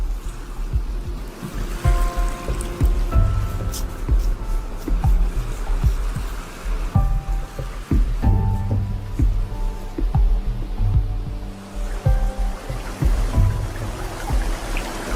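African ocean surf rolls in steadily, a deep continuous wash of breaking waves close by, with a few brief tonal sounds layered over it.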